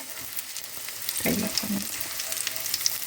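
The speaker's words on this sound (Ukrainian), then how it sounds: "наші котлетки з одної сторони підсмажилися. І отак обережненько їх перевертаємо." Cabbage and egg cutlets sizzle steadily in a frying pan, with a couple of brief, louder spatters and scrapes midway as they are turned over; no voices.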